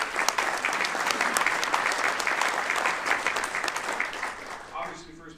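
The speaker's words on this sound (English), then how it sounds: "You give them a round of applause for all their hard work." A golf awards presentation audience breaks into a loud, continuous round of applause that holds steady, then thins and fades out near the end.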